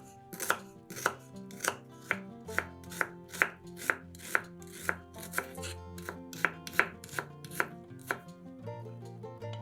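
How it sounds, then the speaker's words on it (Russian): A knife dicing a small onion into cubes on a cutting board, rapid regular chops close up, with soft music playing underneath. "1 небольшую луковицу нарезаем кубиками."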